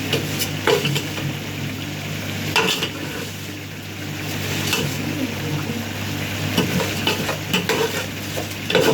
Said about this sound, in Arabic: انا بقى في بحمر في الشعريه اهي